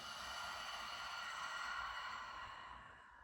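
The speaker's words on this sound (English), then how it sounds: "inhale through the nose, open your mouth and fully exhale" A person doing yoga breathing exhales fully through an open mouth, giving one long, soft, breathy rush of air, close and quiet, fading at the end.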